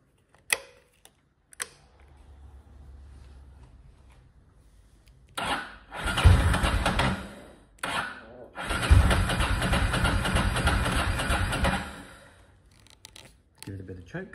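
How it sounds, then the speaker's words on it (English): A Ducati Monster 900 motorcycle cranks with a starter whir, then catches and runs in two bursts, a loud close mechanical engine roar lasting several seconds each, separated by pauses and preceded by faint clicks and handling noise. "I'm going to try a couple of test runs just to see if I can get the bike to tick over"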